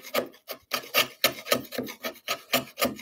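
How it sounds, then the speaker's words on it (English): A wood chisel scrapes and pares out the back corner of a board, a close, rhythmic series of about ten rasping strokes at a quick, steady pace with no talk. "with the chisel, just to clean that back corner out."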